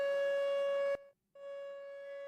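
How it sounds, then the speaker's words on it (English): An outdoor civil-defense warning siren wails during severe weather as a loud, steady tone that cuts out briefly and then resumes, with no talking. "he's got to be right at that siren"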